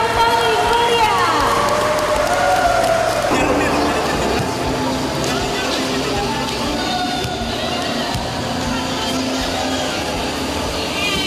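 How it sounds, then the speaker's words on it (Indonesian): An audience applauds at the opening of an international FIBA-standard basketball arena in Medan, with dense clapping and crowd noise running throughout under a voice and other sounds. "Berikan tepuk tangan yang paling meriah."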